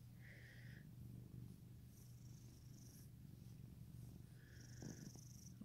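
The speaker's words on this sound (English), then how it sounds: "Oh, yes, he's purring." A Siamese cat purrs steadily and close by, a continuous low rumble running through the whole stretch, with a few faint higher sounds drifting over it and no talk.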